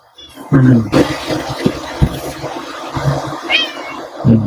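A house cat meows a few times close by, the calls mixed with bumps and handling noises and a person's voice speaking softly.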